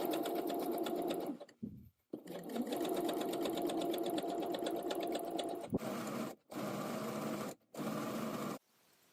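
A sewing machine stitches a casing beside a finished seam, running in long steady buzzing stretches broken by several brief pauses, close and loud with no talk.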